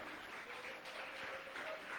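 Church congregation applauding during a Spanish-language sermon, a faint, steady patter of many hands clapping heard from a distance.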